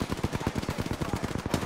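Rapid automatic gunfire in the Apex Legends video game rattles out as a dense, loud stream of evenly spaced shots. The burst lasts well over a second with no pause.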